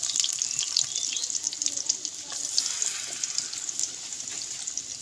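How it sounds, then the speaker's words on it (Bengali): Ground spice pastes of chili, onion, ginger, garlic and cumin sizzle in hot oil for a Bengali soybean curry, a steady crackling hiss throughout with small spits and faint kitchen clatter, no talking. "এবার একে একে আমি বাটা মশলাগুলো সব দিয়ে দিচ্ছি।"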